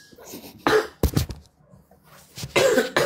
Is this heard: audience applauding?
no